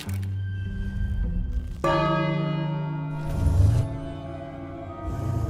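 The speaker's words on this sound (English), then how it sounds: "So, step one, let's ring the bell." A large bell rings in the King's Quest video game, a loud, deep struck tone with long, ringing overtones that decays slowly, heard alone over a low musical background.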